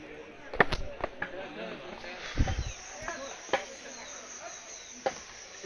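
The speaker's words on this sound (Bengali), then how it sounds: "ঝিঝি পোকার ডাক শোনা যাচ্ছে দিনের বেলাতেই" Crickets chirp faintly on a quiet hillside in the daytime, a thin insect buzz under sporadic knocks and rustles nearby.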